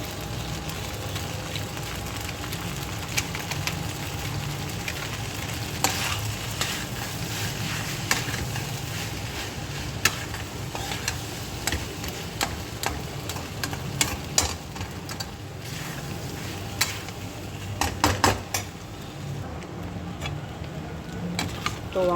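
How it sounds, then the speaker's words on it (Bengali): Pasta with a chow mein spice mix is stirred in a hot pan, a low continuous sizzle with irregular scraping and clinking of a utensil against the pan, close and with no voices. "এবার আমরা ভালো করে এবার পাস্তাটা দিয়ে নাড়তে থাকবো"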